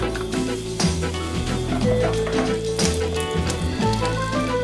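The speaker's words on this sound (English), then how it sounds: "Sausage meat goes in. Break up the meat and saute." Sausage meat sizzles steadily as it is broken up and sautéed in a pan, a constant close frying hiss with scattered spatula scrapes and taps against the pan.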